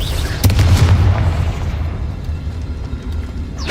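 A Confringo explosive spell blast in Hogwarts Legacy booms loudly and low, its deep rumble swelling over the first second and then trailing off into a fading roar, with no talking over it.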